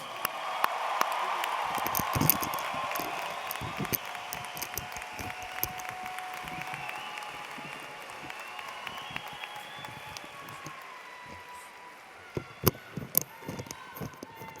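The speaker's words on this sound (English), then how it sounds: "How about a round of applause?" A crowd at the 2016 Utica High School graduation ceremony claps for the graduating class. Broad, sustained applause fills the hall, thins out gradually and ends in a scattering of louder individual claps.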